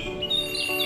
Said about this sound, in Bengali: দিনের শুরুটা হয় পাখির ডাকে